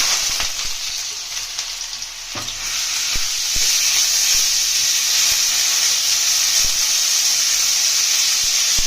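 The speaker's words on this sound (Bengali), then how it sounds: "তেল গরম হয়ে গেছে, কাঁচা লঙ্কাটা দিয়ে দেবো। এদিকে স্টাফের আলুটা যেটা করেছিলাম ওই আলুগুলো দিয়ে দেবো।" Stuffed potatoes and green chilli frying in hot oil in a wok, a steady close hissing sizzle that swells louder after a couple of seconds, with occasional light clinks and no talking.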